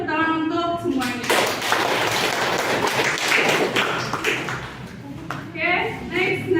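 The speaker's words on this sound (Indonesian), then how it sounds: "Kita tepuk tangan untuk semuanya" Classroom applause as students clap together for a few seconds, bursts of hand claps over a steady bed of clapping, with a teacher's voice speaking before and after.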